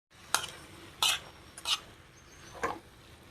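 Biryani masala powder, chilli powder and salt sizzle steadily in a pan as a spoon scrapes and stirs in four uneven strokes, close by, with no voices.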